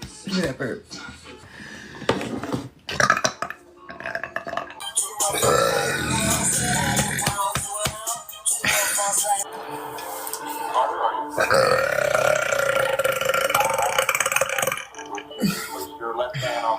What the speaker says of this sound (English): Look at that burp.